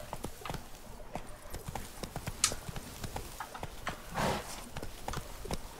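Hooves clip-clop in a rapid, steady gallop as a horse runs in The Witcher 3 game, close and clear, with one sharp louder hit partway through.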